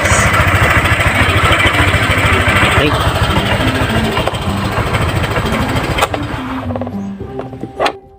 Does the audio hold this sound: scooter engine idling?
yes